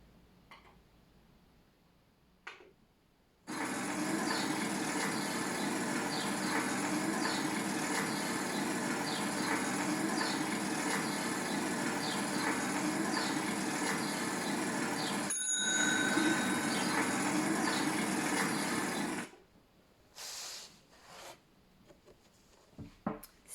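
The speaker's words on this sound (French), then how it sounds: "C'est le bruit d'un vélo." A bicycle bell rings continuously with a bright metallic trill for about fifteen seconds, then stops, leaving quiet rustling.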